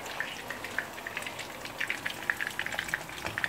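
Eggs and sausage sizzle and crackle in a frying pan, a steady close hiss dotted with small pops and occasional stirring sounds.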